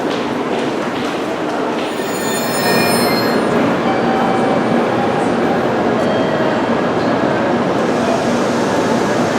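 A train pulls into a small rural station at Sasaguri, Japan, with a steady loud rumble of rail cars, high metallic wheel squeals and faint clicking of wheels over the track throughout.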